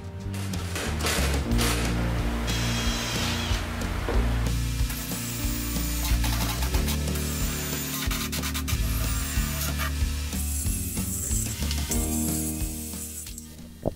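Self-tapping screws are driven from the top through a wooden floor on a popup camper being rebuilt, giving a steady, close grinding and rubbing sound that runs without a break and without talk.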